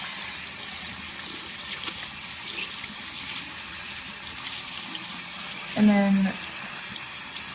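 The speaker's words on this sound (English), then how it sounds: "Now I'm going to rinse it out." Steady tap water runs into a sink while a beauty blender sponge is rinsed, a continuous splashing hiss throughout with a brief clunk near the end and a voice speaking faintly.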